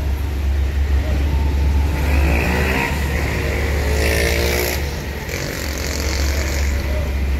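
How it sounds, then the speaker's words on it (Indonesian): Sinar Jaya Premium Suites Class bus maneuvering and turning, a loud low engine rumble that rises and eases as the vehicle swings around, with brief hissing bursts midway and no talk. "Hati-hati karena mau muter belok."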